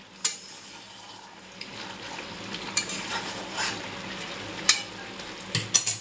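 Water is poured into a pan of frying chicken curry. A steady hiss and sizzle runs throughout, with clinks of a spoon or utensil against the pot now and then and a few sharper spattering bursts near the end.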